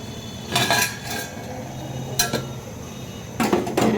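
A lid clatters onto a metal cooking pot of small-fish curry, a few sharp metallic clinks and scrapes spaced out over a quiet kitchen background.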